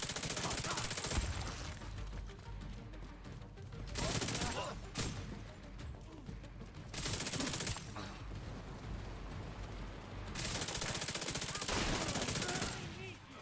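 A voice mimics pistol shots in bursts, with loud, broadband blasts repeating through the stretch and separated by short gaps, in the setting of a game featuring the Houndsman.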